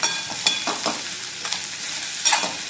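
Chopped okra for a Maharashtrian okra-potato masala sizzles steadily in a pan, with several sharp stirring scrapes and clinks breaking through the close, continuous frying hiss.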